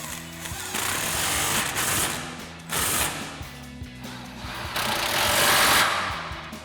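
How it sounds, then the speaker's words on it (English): An impact wrench with a 10mm swivel socket and extension drives down two factory screws while a Ford F-150 exhaust system is fitted. It gives three loud rattling bursts of hammering up close, separated by brief pauses. "Now we'll tighten those 2 factory screws down with our 10mm swivel socket and extension on our impact."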